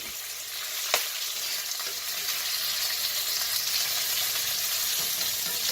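Bacon sizzles and splatters steadily in a Finex 10-inch cast iron skillet, a loud, dense crackle that holds through the whole stretch, with a sharp pop near the start and no voices.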